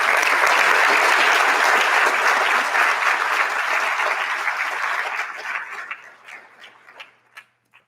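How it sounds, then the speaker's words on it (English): Audience applause at a 2023 National Honor Society induction ceremony, a dense, loud wash of clapping from a large crowd that thins out toward the end into a few scattered final claps. "Please join me in thanking them with a round of applause."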